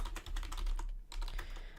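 Rapid, close keystrokes on a computer keyboard during a typing game, a steady run of clicks with one brief pause before it resumes.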